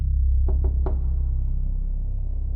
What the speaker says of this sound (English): The knocking.